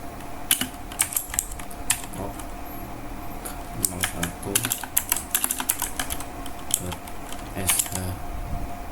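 Close, rapid clicking of a computer keyboard as a shell script is typed in the nano editor, with irregular bursts of keystrokes and brief pauses throughout.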